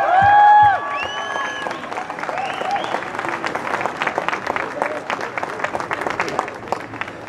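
Crowd applause at a large demonstration in Salzburg in support of police, dense clapping that swells after a brief loud voice at the start and continues steadily, with scattered cheers mixed in.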